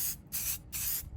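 A spray paint can hisses onto wood in three short bursts, each a loud, close, airy rush separated by brief pauses.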